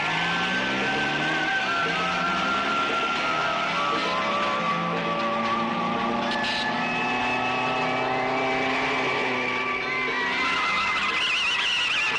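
A car skids while taking a turn too fast, with long wavering tire squeals and engine revving that hold loud and continuous for several seconds, then shift in pitch near the end, with no talking.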